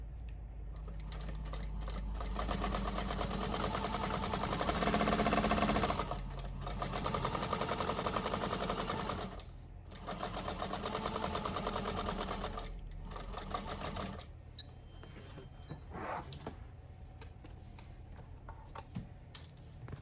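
A sewing machine topstitching a tote bag runs in a rapid, even needle clatter, pausing briefly a few times before continuing at a steadier, slightly quieter pace.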